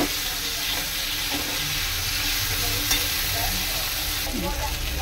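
Frying with steady stirring in a pan, where potato and green plantain are being cooked for a Bengali hilsa curry with kalonji. A continuous close sizzle runs throughout, with occasional scraping stirs and no talk.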